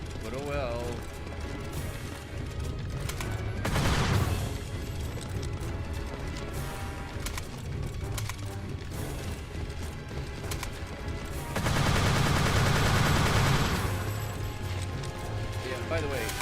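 Rapid weapon fire in the alien-fighting shooter Earth Defense Force 2017, bursts of crashing, cracking shots over steady game music, with two louder, denser volleys standing out near the start and again toward the end.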